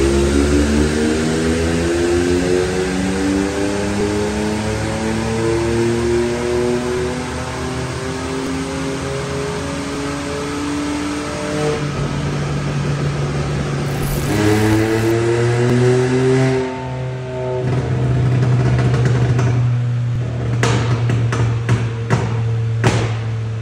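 A VW Up TSI engine with 210,000 km on it, remapped, revs during a power run, its pitch climbing repeatedly through the gears in loud sweeping pulls. Near the end, sharp clatters and bangs break in over the engine.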